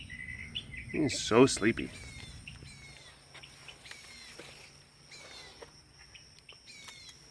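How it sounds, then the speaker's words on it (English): Birds chirping and singing outdoors in short, fairly faint repeated calls over a quiet background, with someone speaking softly near the start. "Listen to the birds. They're very nice."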